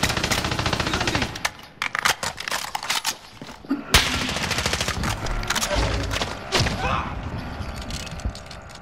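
Heavy automatic gunfire in a shooter video game fills the clip in rapid, loud bursts with short pauses between volleys, with faint voice lines mixed underneath.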